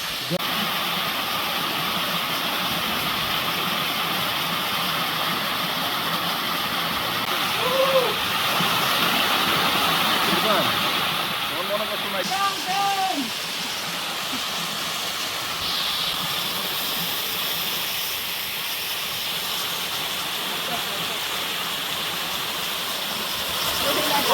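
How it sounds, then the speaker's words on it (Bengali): Jhorojhori waterfall at Sitakunda, a loud, continuous rushing roar of falling water close by, with people briefly talking over it partway through. "অনেক সুন্দর ঝর্ণাটা"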